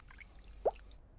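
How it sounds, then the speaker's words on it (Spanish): A single cartoon water drip falls in a shower, a short, soft plop just past the midpoint of an otherwise quiet moment. "En la ducha, George comparte la bañera con el señor dino"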